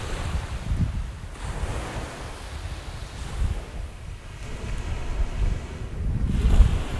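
Waves wash steadily onto Lido Key Beach while wind buffets the microphone in gusts, the surf rising and falling in a continuous roar.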